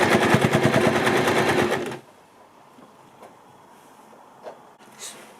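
A sewing machine stitches scrunchie fabric in a fast, even mechanical rattle for about two seconds. It then stops, leaving quiet room tone with a couple of faint small clicks.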